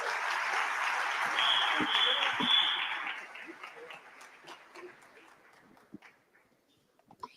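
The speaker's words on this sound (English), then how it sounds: "Please give our panelists a round of applause." Applause from an audience, loud at first and then fading away, leaving scattered claps and faint room noise.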